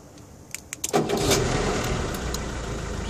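A car's ignition is switched on, and a few clicks are followed by the engine cranking and starting. It settles into a steady, close idle rumble.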